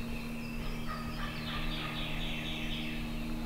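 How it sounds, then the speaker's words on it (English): Wild turkeys at sunrise on a hardwood ridge: a young jake gobbles in rattling bursts, with another bird yelping behind it, fairly distant over a steady outdoor hum. "It does sound like a jake, but another one just yelped behind it."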